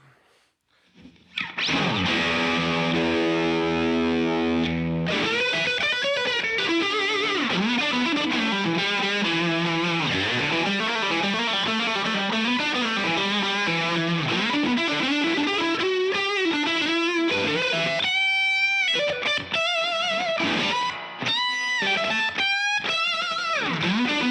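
An electric guitar plays through a Kingtone Octaland overdrive pedal with its high-gain function turned up: a sustained distorted chord, then a fast gritty riff, ending in choppy staccato stabs.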